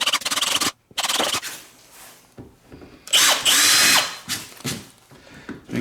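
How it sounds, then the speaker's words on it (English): A power drill bores a mounting hole in a kayak hull for a YakAttack Mighty Mount II with backing plate, in loud whining bursts broken by short pauses and scraping, close up with no talking. "We're gonna drill the next hole."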